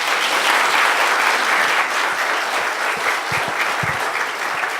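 An audience at a symposium applauds after a talk, sustained even clapping filling the hall for about five seconds without any talk.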